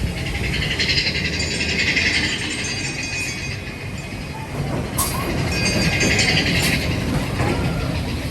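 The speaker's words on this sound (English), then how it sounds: "I'm on Big Thunder Mountain Railroad here in Disneyland." Big Thunder Mountain Railroad coaster train at Disneyland rumbling steadily along its track, a continuous close rattle and roar with brief squeals and clanks, no talking.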